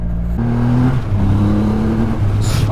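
A Triumph Rocket 3 GT, a 2.5-litre 165 hp motorcycle, pulls hard on the road with its engine tone climbing and stepping between gears, loud and close under strong wind rush.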